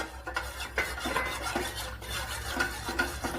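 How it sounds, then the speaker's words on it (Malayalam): A custard milk pudding mixture is stirred in a pot, giving a steady run of soft scraping and swishing strokes with light clinks of the spoon against the metal. It sounds close and moderately quiet, with no talking. "അപ്പോൾ ചേർത്ത് കൊടുത്ത ഉടനെ തന്നെ കലക്കി കൊടുക്കണം, അല്ലെങ്കിൽ കട്ട പിടിക്കും."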